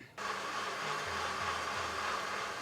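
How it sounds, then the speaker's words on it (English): Blender whizzing prawn curry sauce, starting abruptly and running at a steady, fairly loud whir for a couple of seconds, with no talk. "So, let me go and whiz this up."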